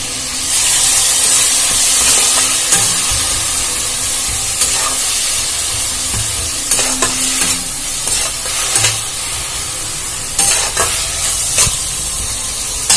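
Thinly sliced potato and carrot sizzle and hiss in a hot pan for egg snacks, with a steady frying crackle and occasional scraping stirs up close; no talking.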